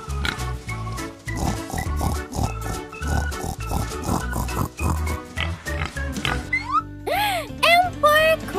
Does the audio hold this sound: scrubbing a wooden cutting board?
no